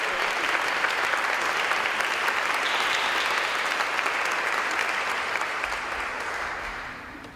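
A congregation at a seminary matriculation worship service gives a steady, sustained round of applause, a dense even wash of clapping that fades slightly at the close.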